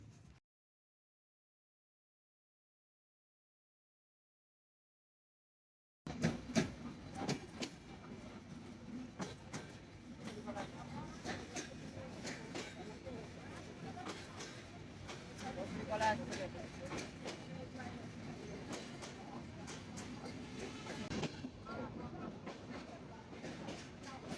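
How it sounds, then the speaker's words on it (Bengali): After about six seconds of silence, the Padma Express train running between Rajshahi and Sirajganj rumbles steadily on the rails, with rapid clickety-clack beats and faint voices in the background. "পদ্মা এক্সপ্রেস ট্রেনটি টাইম মেনটেন করে চলাচল করে"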